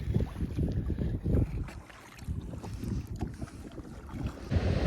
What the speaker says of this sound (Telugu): గాలి చాలా ఎక్కువ ఉంది